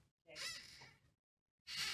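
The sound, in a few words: crow cawing sound effect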